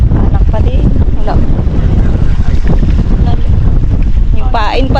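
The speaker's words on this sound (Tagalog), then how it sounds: "Sobrang lakas ng hangin." Strong wind buffeting a small boat at sea, a loud constant roar with rumbling gusts battering the microphone, as people talk faintly under the noise.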